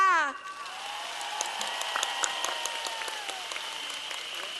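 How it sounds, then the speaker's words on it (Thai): Sustained applause from a crowd at an outdoor political rally stage in Lumphini Park, Bangkok, a steady patter of clapping that carries on beneath a voice speaking over it. "อยากจะขอเสียงปรบมือจากท่านหน่อยค่ะ"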